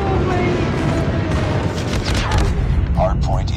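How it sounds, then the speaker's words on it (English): Friendly airstrike explosions in a shooter game rumble as a dense, continuous barrage of booms and gunfire, with game announcer voice lines and short whooshing sounds riding over the din. "Friendly airstrike incoming."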